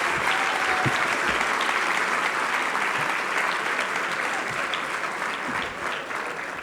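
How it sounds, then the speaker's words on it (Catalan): Steady, dense applause from an audience at a local sports awards festival fills the whole stretch, close and sustained with no voices over it. "Us demano un fort aplaudiment per tots ells."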